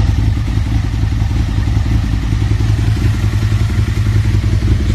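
An Aprilia RSV Tuono 1000 motorcycle engine, just rebuilt after a block change, idles loudly and steadily up close with a continuous rhythmic mechanical clatter and no voices.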